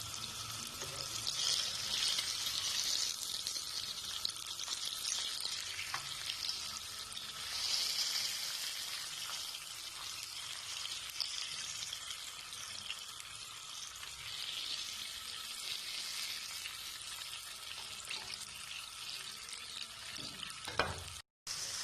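Pieces of masala-marinated fish fry in hot oil with a steady, close, fairly loud sizzle that hisses evenly throughout, with a brief knock near the end and no talking.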